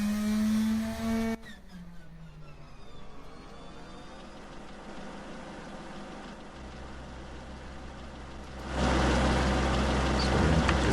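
A P-38 engine in a flight simulator game cranks and catches, settling into a steady mechanical drone that grows louder and rougher toward the end as the engine runs up, with no talking over it.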